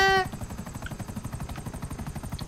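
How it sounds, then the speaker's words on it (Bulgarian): Steady, loud rotor chop from a helicopter in GTA V, pulsing evenly throughout, with a short tonal chime at the start. "Аз направо си викам Авенджера тук."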